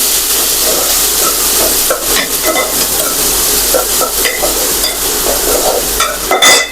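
Onions fry loudly in hot oil with ginger-garlic paste, a constant bright sizzle overlaid by irregular spoon stirs and scraping clatters against the pan, growing busier toward the end.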